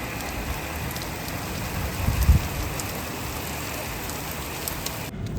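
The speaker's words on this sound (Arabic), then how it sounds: "اوكي ما بدي يكون عم بين سامعين الرعد كتير." Steady rain falls outside in a dense, even hiss, and a low rumble of thunder swells briefly partway through. Both are heard at moderate loudness with no voices.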